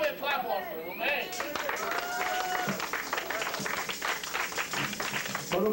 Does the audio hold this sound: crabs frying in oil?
no